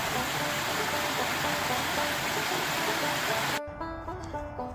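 Rushing water of Eureka Creek along the Appalachian Trail near the Delaware Water Gap, a loud steady broadband wash that cuts off abruptly near the end, leaving a quieter background.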